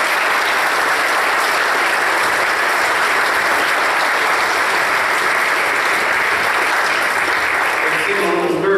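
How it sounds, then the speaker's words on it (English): A church congregation applauds newly confirmed members on Confirmation Sunday, a steady, dense wash of clapping from many hands that holds loud and even for the whole stretch before easing slightly at the end. "let's celebrate with them by our applause once again"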